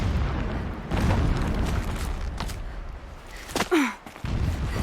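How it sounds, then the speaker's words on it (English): Distant explosions in the Horizon Zero Dawn video game rumble as low booms, with a sharper, louder burst near the end. "Explosions in the distance."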